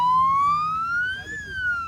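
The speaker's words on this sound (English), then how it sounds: "It might sound like your usual ambulance" A siren wails from a small three-wheeled ambulance speeding along a dirt road at night in northern Ghana, a loud rising and falling electronic tone close by.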